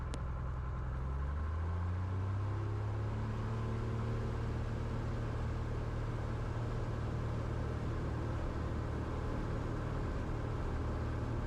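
A small airplane engine drones steadily during takeoff from runway 30 at Elliot Lake, a loud, continuous cockpit hum whose pitch rises at first as power comes up, then holds even.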